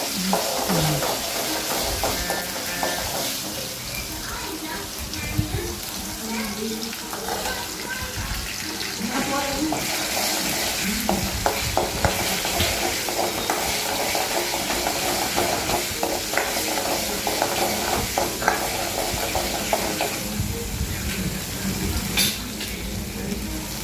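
Food sizzles and crackles steadily in a hot pan while sautéing for kurma, with occasional stirring scrapes throughout.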